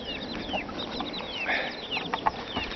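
Free-range chickens clucking in an agitated, stirred-up flock, with overlapping nervous calls and squawks continuing steadily at moderate distance outdoors.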